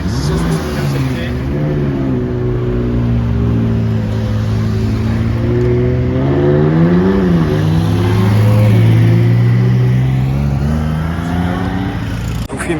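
A Ferrari 599 GTB's engine rumbles close by, rising and falling through several revs, with a smooth tonal howl that swells loudest near the end, under someone talking in French.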